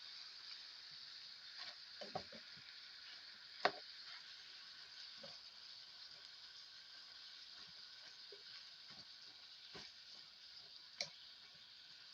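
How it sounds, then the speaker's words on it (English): Faint, steady sizzling of onions and peppers in a hot pan, with a few light clicks and taps of utensils scattered throughout; no voices. "Hear that sizzle?"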